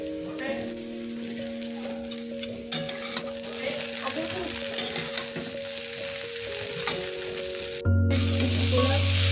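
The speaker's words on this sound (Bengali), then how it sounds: "চিনিটা দিয়ে নাড়িয়ে নেব" Poha with sugar being stirred in a frying pan: a steady soft sizzle with scraping stirs, faint tonal hum underneath, and a louder burst near the end.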